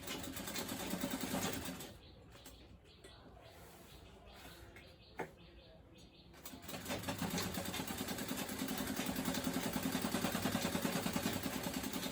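A sewing machine stitches in a fast even whir, pausing for a few seconds mid-stretch with faint handling clicks, then resuming at a steady close hum.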